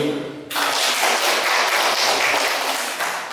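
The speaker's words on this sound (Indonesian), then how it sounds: "Sekali lagi tepuk tangan untuk Pak Wahyu." Sudden applause breaks out at a district meeting discussion session, starting abruptly after a brief voice and continuing as loud, dense clapping from the gathered audience.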